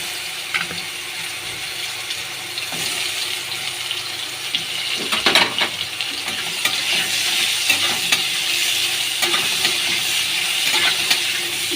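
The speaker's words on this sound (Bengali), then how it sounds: "ভালো করে একটু ভেজে নেব।" Ridge gourd frying in oil after a five-spice tempering, a continuous bright sizzle with irregular stirring scrapes and occasional clatter throughout, close and fairly loud.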